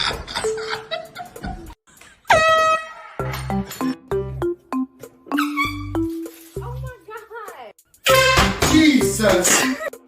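Air horn blasts during pranks, several loud, sharp, steady-pitched honks set between startled voices and shouts, very close and piercing.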